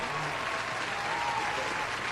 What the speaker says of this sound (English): Genesee, just give a round of applause